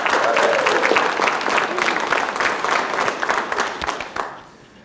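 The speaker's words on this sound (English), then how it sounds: "Let's give our couples a round of applause." Audience applause for couples at a game show, steady and full for about four seconds, then fading away with a few cheers and voices mixed in.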